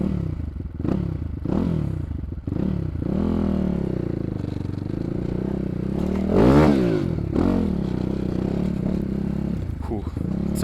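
An enduro motorcycle on a forest trail revs and strains while trying to climb onto a log, its engine rising and falling in bursts with clattering and scraping, close by and fairly loud.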